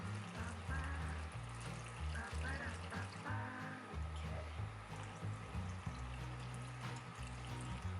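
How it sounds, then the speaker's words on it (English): Warm filtered water poured steadily into a bowl for sourdough bread dough, a continuous trickling stream heard close up over low background noise, with no talking. "And then we need 362 grams of warm filter water"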